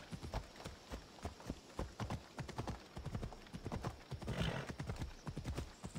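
Horse hooves galloping in Assassin's Creed Odyssey, a rapid rhythmic clip-clop of close, crisp hoofbeats with a brief neigh partway through.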